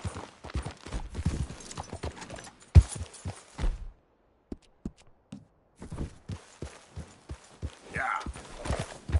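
A horse gallops in the video game Red Dead Redemption 2 with quick repeated hoof clops. They stop for a pause, then resume, and a voice speaks briefly over them.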